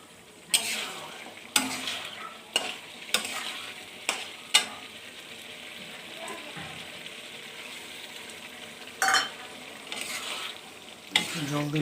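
Fish cooking in a hot pan as water is poured in, a steady sizzling hiss with sharp bursts and clatters of stirring at intervals, close and fairly loud.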